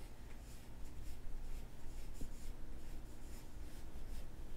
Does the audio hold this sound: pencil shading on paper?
yes